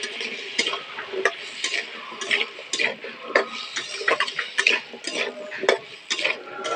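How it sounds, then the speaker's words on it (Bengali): Potato pieces with turmeric and salt frying lightly in a pan, a steady soft sizzle broken by irregular clicks and scrapes of a spatula against the pan, close and moderately loud. "দিয়ে আলুটাকে একটু হালকা করে ভেজে নেবো"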